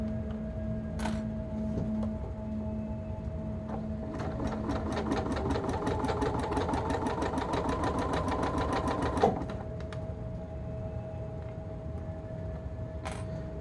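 A sewing machine stitching a short zigzag on stretch fabric, a close rapid even needle chatter lasting several seconds over a steady motor hum, with faint clicks before and after.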